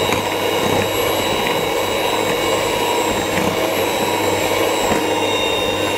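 An electric egg beater whirs steadily and loudly as flour is mixed into cake batter, a constant high motor whine with faint scraping beneath it.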